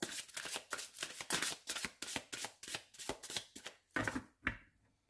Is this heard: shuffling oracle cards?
yes